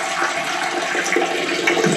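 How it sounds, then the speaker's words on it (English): A toilet in an abandoned house gives one brief flush, a close gurgling rush of water that lasts about two seconds with no talking over it. "Braxton, it had one flush."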